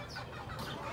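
Roosters in a gamecock yard cluck in a short, close burst, with soft rustling and low background noise and no speech.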